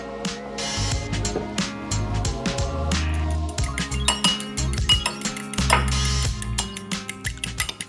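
Egg and olive oil are whisked together in a bowl to make a homemade hair mask, giving a loud, steady run of clinking utensil strikes against the bowl with brief pauses between bursts.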